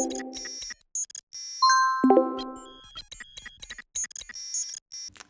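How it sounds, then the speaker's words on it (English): Old-school electronic notification beeps from Claude Code hooks, a choppy series of short tonal beeps and dings in rapid irregular bursts with a brief sustained tone in the middle, heard alone. "Or maybe you prefer the old school beeps."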